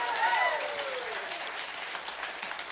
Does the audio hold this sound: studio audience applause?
yes